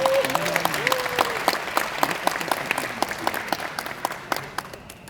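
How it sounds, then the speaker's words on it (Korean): An audience at an agri-food startup festival in Gwanggyo claps to welcome speaker Tyler Rasch, a moderate steady round of applause with distinct individual claps, a brief voice near the start, gradually tapering off. "모두 큰 박수로 환영해 주시기 바랍니다."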